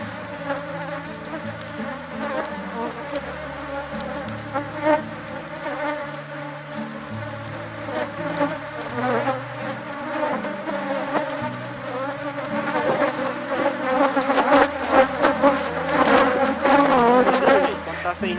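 A honeybee swarm droning loudly and continuously during a hive split, close and dense, growing louder toward the end, with faint voices underneath.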